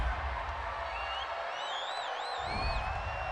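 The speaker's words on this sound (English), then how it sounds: "This home crowd, they're happy with that call" A home crowd roars and whistles at an NFL game between the Minnesota Vikings and Atlanta Falcons after a penalty call, producing a dense, sustained wall of cheering with shrill whistles riding over it.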